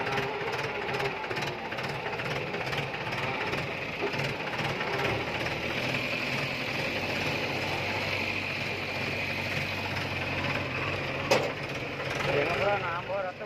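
A Mahindra tractor engine runs steadily while being driven, a continuous rough drone and rattle with a mechanical clatter throughout, a voice speaking over it.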